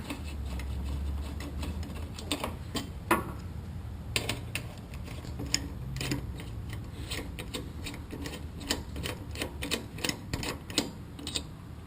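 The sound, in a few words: socket wrench loosening Harley rear brake caliper bolts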